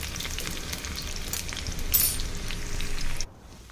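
Chopped shallots fry in hot oil for a green mango curry, a close, steady crackling sizzle with stirring that cuts off abruptly near the end.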